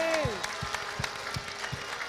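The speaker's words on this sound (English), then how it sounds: "Clap for Jesus, clap for Jesus, clap for Jesus, clap for Jesus." A church congregation claps together in a steady, regular beat, a few claps per second, with a voice sounding briefly at the start over the rhythmic hand claps.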